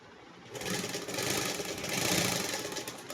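Sewing machine stitching fabric, a steady buzzing whir that starts abruptly and runs continuously, loud and close, with no talk.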